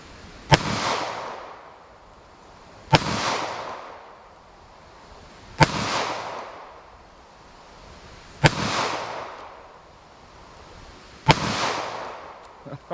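A snub-nose revolver fires .38 Special rounds at a target, five sharp shots spaced about every two to three seconds, each with a loud crack and a decaying outdoor echo.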